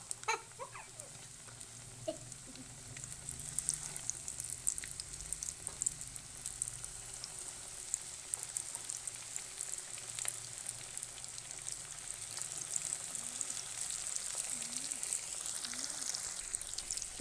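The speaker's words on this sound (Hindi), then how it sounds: "ये मैं इसमें फ्राई करने लगी हूँ" Fish frying in hot oil in a home kitchen, a continuous crackling sizzle with faint pops that grows slightly denser over time, heard alone at moderate level.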